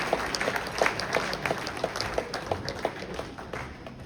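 Applause from an audience at an evening gathering of Ugandan nurses and midwives in the UK, a steady patter of many hands clapping at moderate distance with no talk.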